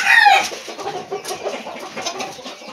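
Chickens clucking close by in a farmyard, several birds giving short overlapping clucks with a brief louder call at the start, continuous busy fowl chatter throughout.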